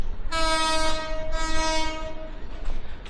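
A train leaving Gaibandha railway station sounds its horn in two long, loud, close blasts, the second trailing off, over a low rumble of the moving cars.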